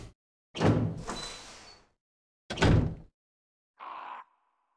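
In the Resident Evil 1 video game, a door sequence plays as two heavy creaking-and-thudding bursts, each a sharp loud hit that trails off, followed by a shorter muffled clunk, all alone without talk.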